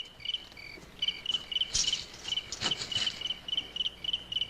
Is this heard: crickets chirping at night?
yes